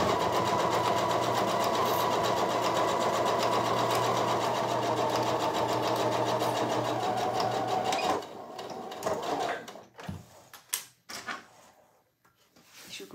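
A sewing machine stitches a zipper in one loud, steady run lasting about eight seconds, then stops, leaving scattered clicks and handling knocks from the machine.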